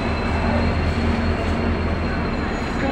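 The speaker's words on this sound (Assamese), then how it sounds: "এইফালে ট্ৰেইন পাই গ'লহি আমি বিচাৰি আছোঁ" A train rumbles steadily at a railway station, a continuous loud low drone of engine and rolling wagons with a faint hum and no clear speech.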